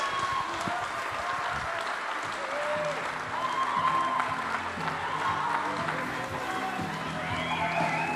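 Crowd at a novice shearing final applauds and cheers the winner, steady dense clapping with voices mixed in throughout.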